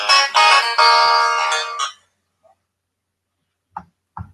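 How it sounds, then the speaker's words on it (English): A phone rings in a bright electronic melodic tone for about two seconds, then stops, followed by a few brief faint clicks and sounds. "Oh, I've got a phone call."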